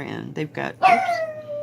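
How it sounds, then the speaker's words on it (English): A pet dog lets out a short high whine rising into a drawn-out howl close by, just after a voice speaks briefly over it. "sorry about the dog, guys."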